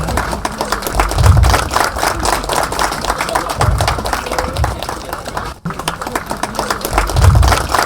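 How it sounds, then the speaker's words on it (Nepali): Audience clapping at a Losar celebration in Sikkim, a steady patter of applause running throughout with a few louder swells, heard fairly close without talk over it. "जोरदार ताली।"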